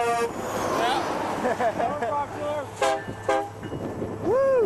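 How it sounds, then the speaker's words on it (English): A train horn sounds in loud, sustained tooting blasts in Montana, passing close and rising and falling in pitch, mixed with vehicle noise and excited voices on a bike trip. "We got semis honking at us and trains"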